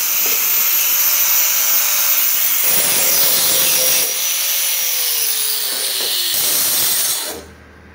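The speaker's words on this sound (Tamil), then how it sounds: "ஸோ இப்போ வந்து பீஸை வந்து கிரைண்டிங் பண்ணிட்டாங்க." Loud, steady abrasive grinding of a metal piece being shaped for a water purifier stand, a continuous harsh hiss with a faint whining tone, running for about seven seconds before cutting off abruptly.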